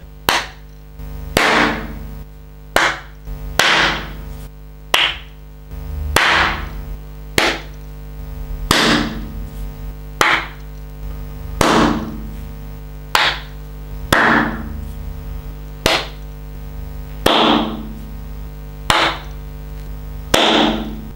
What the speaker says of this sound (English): So I think the clap test is fairly conclusive